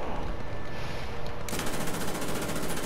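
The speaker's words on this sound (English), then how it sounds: "You just take the machine gun and like" Machine gun fire in the video game War Thunder: a dense burst of noise gives way to a rapid, evenly pulsing stream of automatic shots, loud and continuous with no voices.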